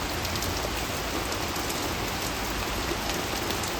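Heavy rain pours down steadily outdoors, soaking clothes hung out to dry, a dense, loud and continuous hiss of falling water with no pauses throughout.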